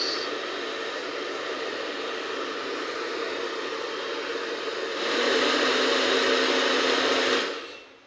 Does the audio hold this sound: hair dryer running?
yes